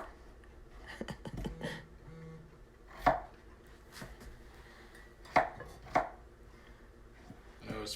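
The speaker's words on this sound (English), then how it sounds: "It's pretty fun watching me do some chopping over here." A knife chops food on a cutting board during a live cooking demo, with sharp irregular taps, a quick flurry early and then spaced single strikes close by.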